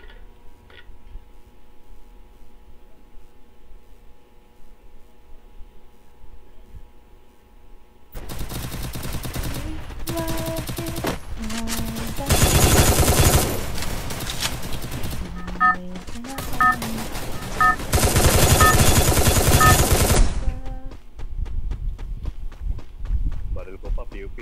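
Rapid bursts of gunfire in a shooting video game, with loud sustained automatic fire and single shots after a quieter start, mixed with game tones and a player talking over it.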